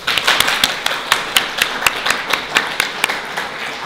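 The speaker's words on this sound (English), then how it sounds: "please can you give a round of applause for Rachel, Amy, Yvonne, Elaine and Kylie" An event audience applauds to welcome a group of readers with steady, moderately close clapping that continues evenly throughout without pause.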